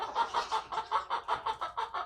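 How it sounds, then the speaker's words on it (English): About ten chickens cluck in a steady, rhythmic series inside a homestead chicken coop in the barn, moderately close and fairly soft, with no talking. "we do have 4 chickens now in the chicken coop"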